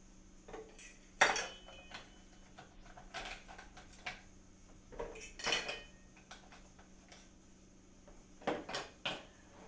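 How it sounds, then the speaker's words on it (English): Ice cubes are dropped into a metal cocktail shaker while a Manhattan is being made, giving sharp clinks and rattles in several separate bursts against a quiet background. "Now we're going to add some ice"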